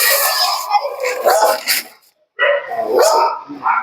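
A dog at a house where a cobra was found barks and yips loudly at close range in two bursts of rapid barking, split by a brief silence, with a person's voice mixed in.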